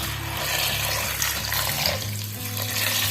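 Water running steadily into a soup pot of chopped fennel and carrots, a continuous close splashing pour under a low background hum.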